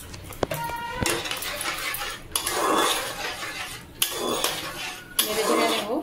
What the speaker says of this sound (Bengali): 3 মিনিট পর আমি ঢাকনাটা এবার খুলে দেখব